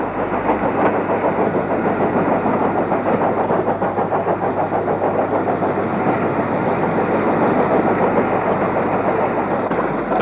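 GWR Manor class steam locomotive Cookham Manor at Andoversford Junction, a steady rolling rumble with rhythmic wheel clatter and engine noise, close and loud throughout without speech.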